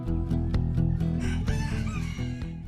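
Ornamental pet chickens on a farm in Jincheon, North Chungcheong, Korea: a rooster crows loudly and close over a steady bed of hen clucks and rhythmic farm noise, with no voices.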